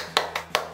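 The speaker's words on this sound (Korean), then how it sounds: "박수 쳐요, 박수." A few sparse hand claps from a small group at a Korean prize draw event, three distinct bursts spaced apart, close and moderately loud with no talk over them.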